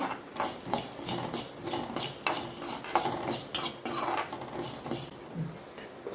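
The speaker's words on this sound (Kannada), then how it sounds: "ನಾನು ಮೀಡಿಯಮ್ ಫ್ಲೇಯಲ್ಲಿ ಇಟ್ಟು ಗ್ಯಾಸ್ ಸ್ಟವ್ ಲೈಟಾಗಿ ಫ್ರೈ ಮಾಡ್ತಾ ಇದ್ದೇನೆ." Chicken sukka masala frying in a pan on a gas stove over a medium flame, with repeated close scrapes and clinks of a spatula on metal in an uneven stirring rhythm over a soft sizzle.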